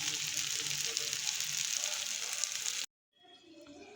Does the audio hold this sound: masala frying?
yes